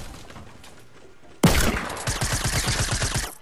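A sudden loud burst of rapid automatic gunfire from the video game Fortnite, sounding close with steady, evenly spaced shots that go on after a quieter start.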